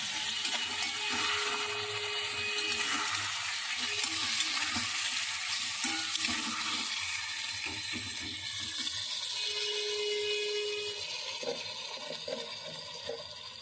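Spice masala for a fish and mung dal dish sizzles steadily in a pan after a splash of water is added, a continuous close hiss with soft stirring scrapes and no voices.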